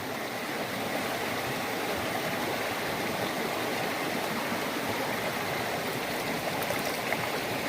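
A creek at a gold-prospecting site with blue clay layers flows steadily, a dense, constant rushing and gurgling close by that never lets up, with no speech over it.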